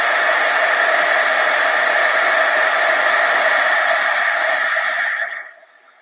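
Heat tool blowing steadily at close range to melt gold and white embossing powder for a fireworks card, a loud continuous hiss and whir for about five seconds before cutting off abruptly.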